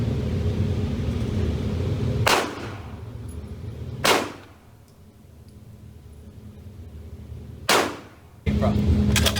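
Gunfire at an outdoor range in Texas, a few loud sharp reports spaced seconds apart over a rumbling background, each shot trailing off quickly.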